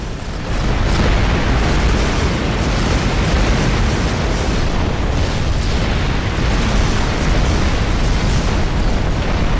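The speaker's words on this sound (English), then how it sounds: "That's because I'm detonating loads of missiles with my flat cannons." Flak cannons detonating incoming missiles in the space combat game Rebel Galaxy: a dense, loud barrage of overlapping explosions and booms forming a continuous roar for several seconds, with no talking.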